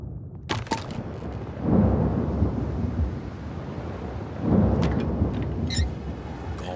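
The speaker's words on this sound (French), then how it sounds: "Enfin, l'orage." Rolling thunderstorm in the video game Another Fisherman's Tale, with two deep rumbling swells of thunder over steady wind and rain noise, sharp crackles near the start and end, and no talk.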